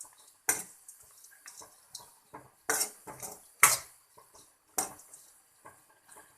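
A metal spoon clinks and scrapes in a pan while turmeric powder and fried gram are mixed in. The sharp, scattered knocks come at an irregular pace, close and clear in a quiet kitchen.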